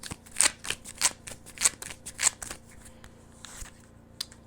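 Oracle cards shuffled by hand: a run of soft, papery riffles and flicks in quick bursts, fairly close and quiet, thinning out toward the end.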